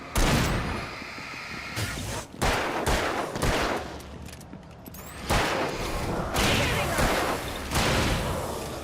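Gunfire rattles in the video game Alan Wake, with repeated loud bursts of shots and booms in quick succession across the whole stretch, dense and close.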